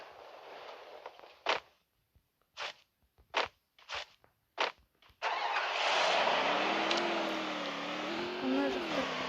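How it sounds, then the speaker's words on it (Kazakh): A motorcycle engine in a video game, first a series of short separate bursts, then a steady engine drone whose pitch rises and falls as it revs, close and loud. "Мотоцикл болған."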